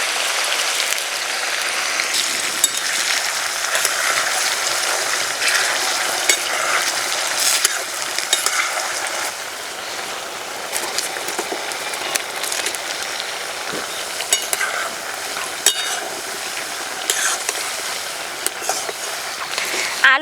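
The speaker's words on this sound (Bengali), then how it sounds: "কড়াইতে সাদা তেল দিয়ে দিয়েছি, বেশ গরমও হয়ে গেছে। এবার আলু দিয়ে দেব।" Potatoes fry in plenty of hot white oil in a wok, giving a dense, continuous sizzle with scattered crackles and small clicks throughout.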